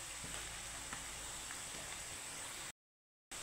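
Onions browned with spices frying in a pan, a steady close sizzle and hiss with faint stirring ticks, broken by a short gap of silence near the end.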